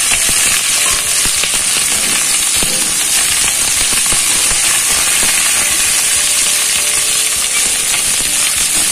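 Half a kilo of cabbage cut into large pieces sautés in hot oil for chutney, producing a loud, constant crackling sizzle with scattered ticking and scraping from stirring.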